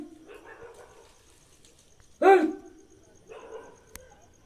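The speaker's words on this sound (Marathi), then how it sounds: "नाही नाही हे तर कुत्रे आहेत" A dog gives one loud, close bark amid quieter dog sounds and faint voices in a village setting.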